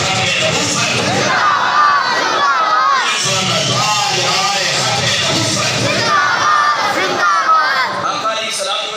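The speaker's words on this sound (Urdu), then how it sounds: "اگر سارے بولو تاجدار ختم نبوت" Large crowd at a religious gathering shouting the slogan Tajdar-e-Khatm-e-Nabuwat in unison, loud and close, with massed voices chanting and cheering in waves and some overlapping shouts.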